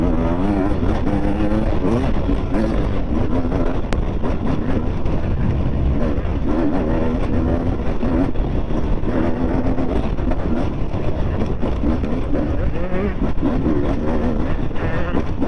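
A small off-road bike on an enduro course buzzes and revs through turns, a rough, continuous engine drone with wind buffeting the microphone.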